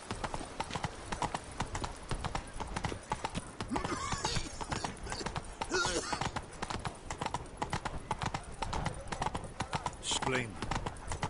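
Roach the horse gallops in The Witcher 3, a steady rapid clip-clop of hooves running throughout, with a voice speaking over the hoofbeats.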